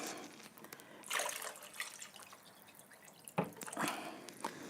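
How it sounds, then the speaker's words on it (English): Water goes into a large crock pot of hamburger soup in bursts of splashing and trickling with drips between, fairly quiet and close. "Now what I'm going to do is add water."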